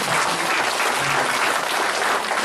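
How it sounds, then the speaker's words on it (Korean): Dense, steady applause from a crowd at an outdoor political rally calling for the dissolution of a party, filling the whole stretch loud and unbroken with no voices over it. "우리 정부를 위해서 박수로 한번"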